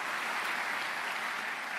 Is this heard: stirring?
no